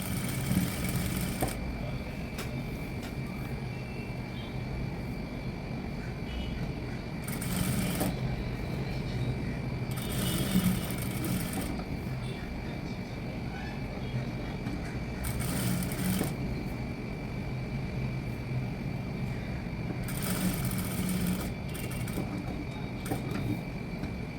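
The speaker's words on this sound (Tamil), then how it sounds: "ஃபர்ஸ்ட் நான் அந்த எட்ஜ் பாயிண்டில் ஒரு ஸ்டிச் போடுறேன்" A sewing machine runs steadily, stitching along the edge of fabric, with a continuous mechanical hum broken by a few brief louder bursts; no talking.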